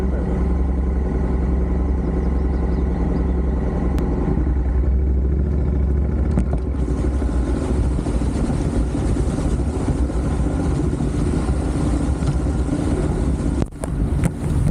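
A motorcycle rides along a trail through a puddle, its engine droning steadily and loudly close by with a rougher churning texture building partway through and a brief dip near the end.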